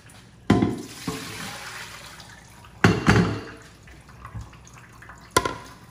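Dirty soaking water from raw Irish sea moss is poured out of a bowl, three separate splashy gushes with quiet trickling between them, close by.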